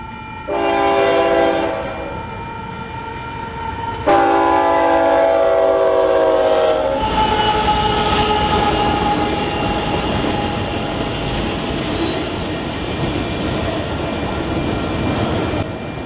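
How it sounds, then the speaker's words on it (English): A Union Pacific double-stack freight train led by GE C45 locomotives sounds its horn in two long blasts at a grade crossing on Beaumont Hill, then rumbles steadily past up close with a continuous rolling roar. "Another stacked train with a cut of auto racks on the head end"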